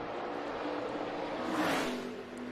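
NASCAR Xfinity Series race car passes with a rising and fading engine whir, loudest midway through, under a steady blend of track noise.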